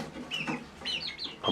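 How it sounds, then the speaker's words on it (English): Several backyard chickens from a flock of eight, some young birds around eight weeks old, giving soft clucks and short squawky calls at close range, a few bursts in quick succession with no talk. "Got 8 chickens here."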